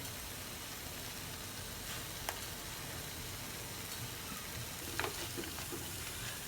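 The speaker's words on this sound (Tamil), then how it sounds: "இந்த மாதிரி ஸ்லோ ஃப்ரையிங் தான் இதில் வந்து முக்கியமான ப்ராசஸ்" Balsam apple slow frying in a pan, a soft, even hiss of oil that stays low and steady, with a couple of faint clicks near the end.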